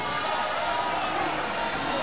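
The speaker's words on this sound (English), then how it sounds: "You hear the crowd maybe just getting a little bit antsy." Restless crowd murmur fills a men's college volleyball arena during a Hawai'i versus Grand Canyon match, a dense, steady roar of many voices with no clear breaks.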